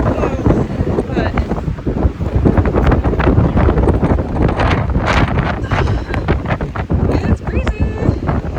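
Gusty wind roars hard over the mic during stormy, thundery weather in the Montana backcountry. It comes as loud, ragged blasts with brief lulls, and a voice talks faintly beneath it.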